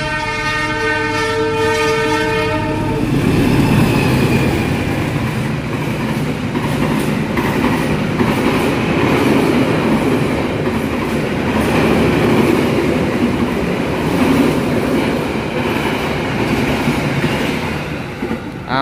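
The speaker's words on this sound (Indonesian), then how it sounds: "Ambarawa Express super panjang melintas stasiun Berumbung." Ambarawa Express, a very long passenger train, passes through Brumbung station in Indonesia, opening with a loud multi-tone horn blast, then a sustained heavy rumble and wheel clatter of carriages rolling by close and continuous.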